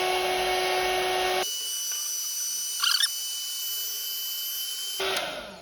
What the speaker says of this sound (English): I've got this small handheld dryer.